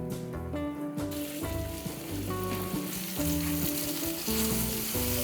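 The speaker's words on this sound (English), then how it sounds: "So the meat's sizzling away." Meat fries in a pan at a campsite for beef stroganoff, a dense, steady sizzle with crackling, mixed with tonal music throughout.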